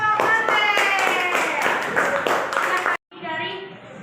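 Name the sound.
group clapping hands in appreciation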